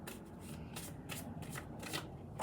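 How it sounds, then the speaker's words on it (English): Path of Light Oracle cards being shuffled by hand, a run of papery riffling bursts close by that repeat steadily, ending in a sharper snap. "And I'm using the Path of Light Oracle cards now"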